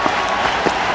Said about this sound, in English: The crowd here standing up to give him a big hand.